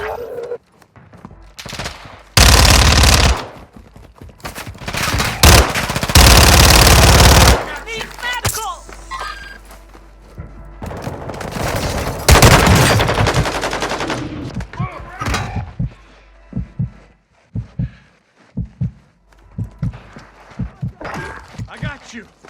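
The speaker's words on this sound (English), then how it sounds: "I got you! Taking effective fire!" Loud bursts of rapid gunfire ring out close by in a combat game, with shouted voices and footstep-like clatter in between.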